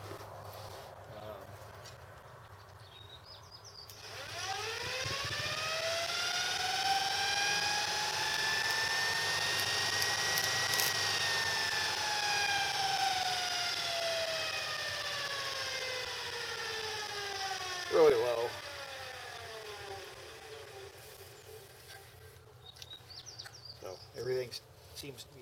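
A GE electric motor spinning with a low-speed vibration: steady whirring with rising then falling harmonic tones as it speeds up and slows, moderately loud and close, a brief knock near the end.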